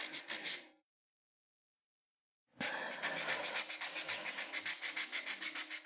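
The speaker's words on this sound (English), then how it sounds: "The sanding is helping a little bit." A beginner sands a hand-carved wooden bowl, producing close, rhythmic rasping strokes in quick repeated bursts after a brief silent pause.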